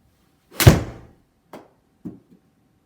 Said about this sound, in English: I've got my 7-iron. I'm going to hit a couple of shots.